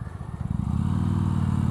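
A BMW K1200S motorcycle at highway speed, a loud, steady engine drone with low rumble building up and wind noise, close and continuous with no talk.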